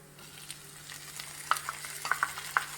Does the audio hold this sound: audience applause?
no